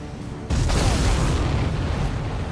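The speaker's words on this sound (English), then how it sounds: "Did you see that explosion?" An explosion in the jet combat game Ace Combat 7: Skies Unknown, a sudden loud blast that bursts out of a steady engine drone and then rolls on as a sustained roar.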